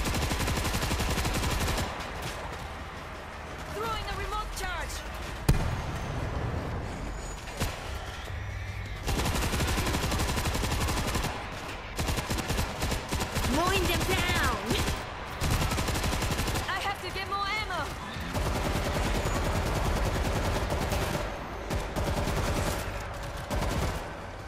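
Heavy gunfire from a big gun in the zombie shooter World War Z, set in Tokyo: dense, sustained bursts and rapid shots over game music and noise, loud and continuous with brief lulls.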